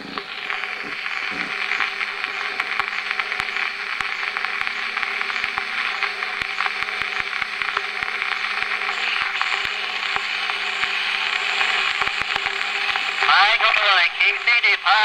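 An 1898 Edison Suitcase Home Phonograph plays an 1898 brown wax cylinder, giving a thin, scratchy, hissing recording with a continuous mechanical ticking from the slow-turning mechanism and a faint, tinny voice within the recording.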